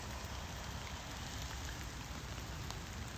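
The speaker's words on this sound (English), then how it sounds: "It's definitely raining here." Steady, soft patter of rain falling on leaves and surfaces in trees around Green Lake, Washington, an even wash of drops with no voices.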